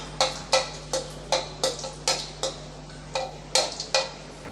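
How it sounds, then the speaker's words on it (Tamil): Mustard seeds splutter in hot oil while tempering for tamarind rice, giving a series of sharp, close pops at a roughly regular pace over a low, steady stove hum. "கடுகு கொஞ்சம் நல்லா பொரிஞ்சு வரட்டும்"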